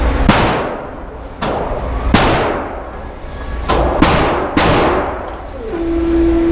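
Shotgun firing slugs at an outdoor shooting range, five loud sharp blasts at irregular intervals, each followed by a long ringing decay, with a faint tone near the end.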